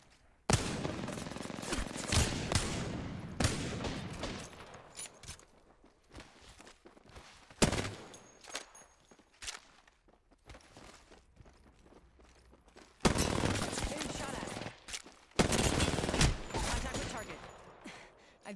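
Bursts of rapid gunfire ring out in a video game during a 1v1 tournament match, with loud volleys separated by quieter stretches that carry faint footsteps.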